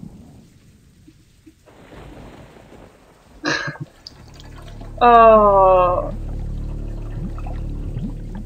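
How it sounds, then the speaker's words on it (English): A shower runs in the video game The House 2, with a steady hiss of pouring water that starts partway through and continues to the end, briefly overlapped by a short spoken exclamation. "Shower."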